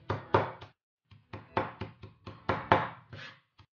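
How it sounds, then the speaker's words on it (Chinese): Chili peppers and garlic are chopped by hand with a knife on a board, giving a close series of sharp, uneven thuds in quick clusters with short pauses between them. "我们这个辣椒和蒜就剁成这么大的颗粒就可以了"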